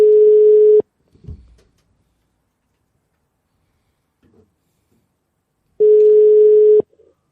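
Two steady telephone line tones, each about a second long, sound loud and clear at the start and end of a gap while a caller is patched through on a Greek radio call-in show, with faint brief noises in between.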